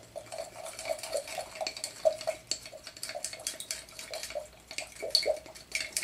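Glow-in-the-dark powder being stirred into paint in a small pot, close and quiet with rhythmic clinks and scrapes of the stirrer against the pot's sides, wet swishing between strokes.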